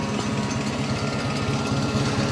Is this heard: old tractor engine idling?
yes